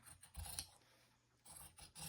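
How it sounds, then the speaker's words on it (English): Fabric-cutting scissors glide along a table surface while trousers are cut out, giving soft rasping snips and scrapes in a few bursts with short quiet gaps, close and fairly faint, with no talking. "My scissors are gliding."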